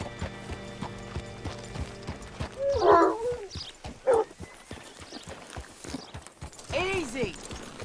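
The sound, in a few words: horse hooves in a video game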